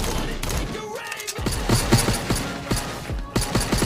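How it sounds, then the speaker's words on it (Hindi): Bursts of rapid automatic gunfire in the Scarfall team deathmatch battle game, crackling shots in quick clusters close by, with lulls between volleys and voices speaking over the action. "यहाँ पीछे से ही फायर हो रही है, कहाँ से हो रही है"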